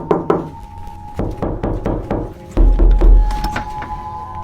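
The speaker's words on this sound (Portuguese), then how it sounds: "Até que você escuta 3 batidas na porta." Knocks on a door sound in a dark, quiet house late at night. A short run of hard, resonant raps lands close and loud, and a heavier thump follows.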